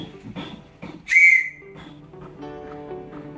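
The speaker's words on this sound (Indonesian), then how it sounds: "untuk bunyi dari huruf E itu seperti ini" A single short whistled tone stands for the Morse code letter E, one dot, sounding as a brief bright burst between quieter background sounds.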